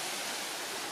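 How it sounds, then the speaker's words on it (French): A waterfall gives off a brief, dense, continuous rush of falling water, steady and moderately distant, with no voices. "je pense que la cascade c'est celle-ci"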